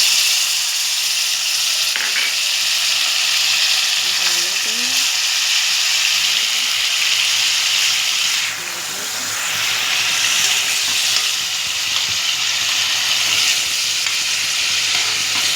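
Onion paste and green chillies frying in oil for a catering-style stuffed brinjal curry, a loud continuous hissing sizzle with stirring scrapes, dipping briefly midway before building again.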